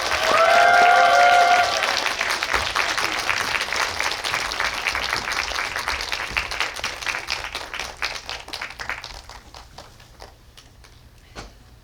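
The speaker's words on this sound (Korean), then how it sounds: "세 분의 게스트를 큰 박수로 맞이해 주시기 바랍니다." A cinema audience at a Dolby theater film talk bursts into loud, dense applause to welcome three guests, the clapping thinning and fading over several seconds.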